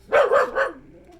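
A dog gives two or three quick, close, loud barks in a short burst indoors.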